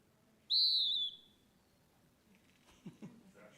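A recorded call of a pewee's cousin species plays as a single sharp, high, slurred whistle lasting about half a second, followed by quiet room noise and faint voices.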